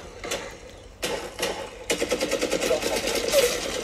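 Machine gun bursts in the mobile shooter game Apex Legends Mobile, a few separate volleys building into a sustained rapid rattle of shots, with a voice talking over the action.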